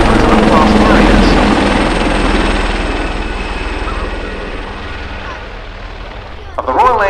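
Royal Navy Wildcat HMA.2 helicopters of the Black Cats display team flying at the RIAT 2024 airshow, a loud sustained rotor and engine roar that slowly fades, then a brief swell near the end.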